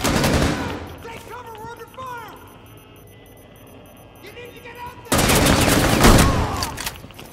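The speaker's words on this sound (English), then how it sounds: "Take cover, we're under fire!" Bursts of automatic gunfire from the Rainbow Six Siege video game, first in a short volley at the start, then a loud sustained barrage near the end, with game voice lines and music between.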